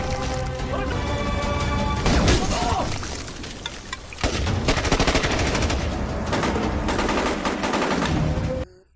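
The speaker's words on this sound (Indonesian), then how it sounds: "dikejutkan dengan suara tembakan dari salah satu sniper lain, yang mana sniper tersebut menghabisi mereka satu per satu" Sniper and rapid gunfire in a war film, a loud barrage of sharp shots and crashing impacts over a tense music score, with a brief lull before the firing resumes and then cuts off abruptly.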